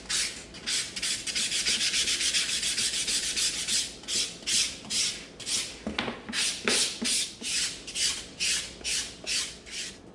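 A wooden axe handle is sanded by hand with 220-grit sandpaper in a steady run of rapid back-and-forth rubbing strokes, close and fairly loud, with one brief squeak midway and no voices.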